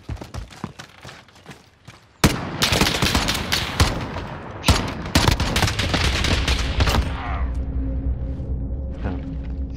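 Heavy video-game gunfire: a few scattered shots, then a sudden loud burst of rapid automatic fire that rattles on for several seconds before tapering off.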